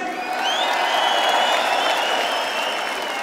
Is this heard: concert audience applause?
yes